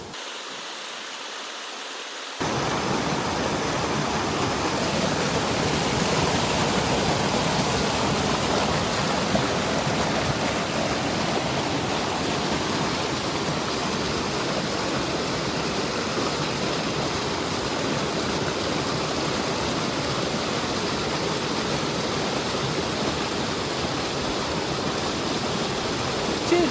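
River water flowing in a broad, steady rush that starts abruptly and stays loud and constant throughout, close to the water, with no talk.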